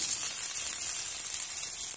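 Potatoes with spices sizzling steadily in a hot pan, a continuous bright hiss with no break, close and moderately loud.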